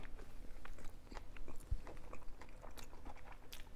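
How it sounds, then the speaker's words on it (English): Someone bites into and chews oven-baked salmon fajitas up close, with soft wet crunches and mouth noises against a quiet room background. "Big old bite."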